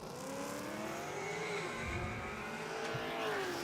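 Drag race cars running down the strip at Willowbank Raceway, engines roaring and shifting pitch at a distance for several seconds, with a faint tire squeal.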